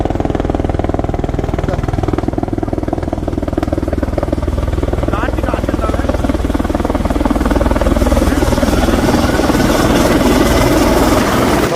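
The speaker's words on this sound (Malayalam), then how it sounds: "ഹെലികോപ്റ്റർ വന്നിട്ട് ഹെലികോപ്റ്ററിൽ ഒരു യാത്രയാണ്" Loud, steady helicopter engine and rotor roar filling the whole stretch, close by, with a constant low rumble throughout.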